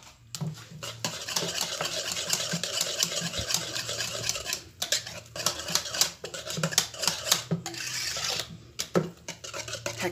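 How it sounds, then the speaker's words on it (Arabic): A spoon stirs a thickened cream mixture with a spoonful of butter in a pot, giving steady scraping and clinking strokes that run continuously and close up, with no talking. "نخلط مليح."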